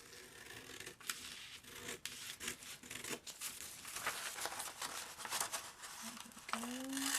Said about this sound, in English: I'm just going to cut my traced pattern out with some scissors.